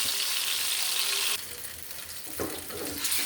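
A tadka of chopped onion and round green chili crackles and sizzles loudly in hot oil, a dense frying hiss that dips briefly and then flares up again near the end.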